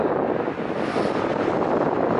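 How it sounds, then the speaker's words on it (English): Gusty wind rushing past a small wind turbine, a continuous low roar and buffeting against the microphone that swells slightly over a couple of seconds, with no voices. "Oh, there's a gust. Nice gust."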